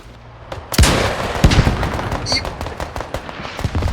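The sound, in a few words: gunshot in a video game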